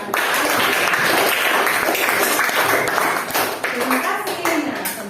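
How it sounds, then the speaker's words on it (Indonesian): Classroom applause during a teacher's lesson: a group claps steadily for a few seconds, with voices talking over the clapping. "Tolong dong yang lain kasih tepuk tangan untuk Lina."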